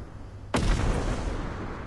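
A single sudden, loud bomb blast in the video game Content Warning, a sharp boom that leaves a broad rumbling tail lasting over a second, with no talking.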